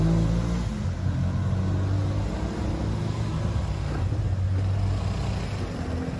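A Vespa Primavera automatic scooter engine runs during a test drive, a steady low mid-pitched hum with road and wind rumble, fairly close and continuous, no speech.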